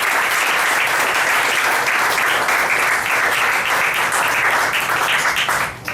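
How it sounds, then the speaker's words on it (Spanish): A church congregation breaks into sustained, dense applause that stays full and even for several seconds before trailing off at the end. "Dale un aplauso, amén."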